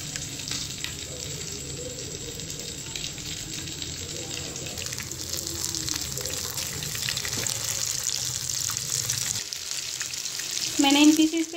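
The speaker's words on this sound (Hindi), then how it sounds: "कुकिंग ऑयल गर्म हो गया है। अब मैं इसके अंदर ये पीस रख दूँगी।" Egg-coated chicken pieces frying in hot cooking oil for spicy fried chilli chicken, a steady close bubbling sizzle that holds throughout, with a brief louder crackle near the end.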